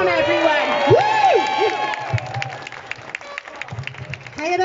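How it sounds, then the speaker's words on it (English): An audience applauds and cheers loudly with whoops and shouts, mixed with a speaker talking over the crowd and some tonal sounds. "So another massive round of applause."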